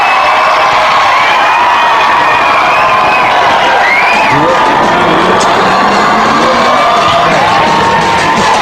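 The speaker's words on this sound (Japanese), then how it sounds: "その姿に大歓声が上がる。" Large crowd erupting in loud, sustained cheering and shouting as rock star Pete Burns arrives on a red carpet, dense whoops and yells filling the whole stretch close up.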